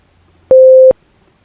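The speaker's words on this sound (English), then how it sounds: "The high-pitched tone sounded, meaning we recall the top row of letters" A single high-pitched electronic beep sounds as a cue in a memory test, one clean steady tone lasting under half a second in otherwise quiet surroundings.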